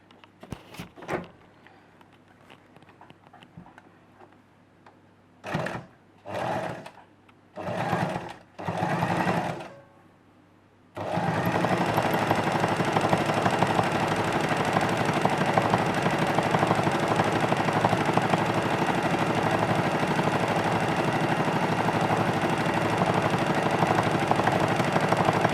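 A sewing machine zigzag-stitches bias tape onto a simple dress: a few short bursts of stitching stop and start, then a long steady run of loud, continuous whirring carries to the end.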